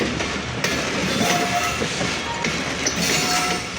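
The Banglabandha Express, a Panchagarh to Rajshahi intercity train, passes at Parbatipur Junction with a close, loud, steady rumble and clatter of wagons on rails, and brief sharp squeals cut through the noise.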